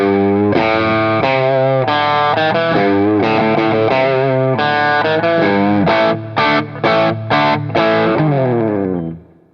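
Electric guitar driven through a pedal straight into a Laney Ironheart Loud Pedal 60-watt power amp, playing loud distorted chords and riffs with a few staccato stabs, ending on a sustained ringing chord.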